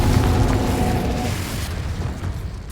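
A Confringo blast spell cast in Hogwarts Legacy on Xbox Series S, heard as a loud, sustained booming explosion with a deep rumble that gradually fades over a few seconds.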